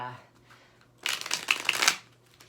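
A deck of tarot cards riffled and shuffled up close in one brief, bright rustling burst of about a second, with soft talk before it.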